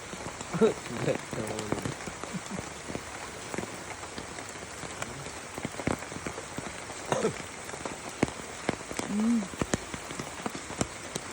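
Steady rain falls and patters on surfaces outdoors, a soft constant wash with scattered drips beneath occasional voices and laughter.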